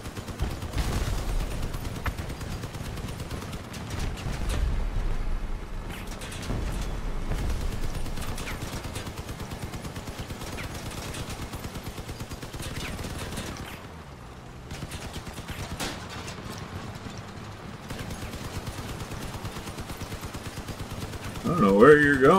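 Vehicle-mounted gunfire in the combat video game Crossout, steady dense rattling shots running throughout at moderate volume, with brief gaps and a voice talking near the end.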